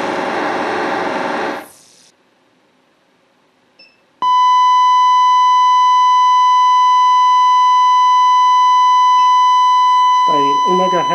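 Steady 1 MHz AM test tone from a signal generator played through an Aiko DT-3000 tuner, a loud pure whistle that starts abruptly after a burst of noise and silence, then holds unbroken while a voice talks briefly over it at the end.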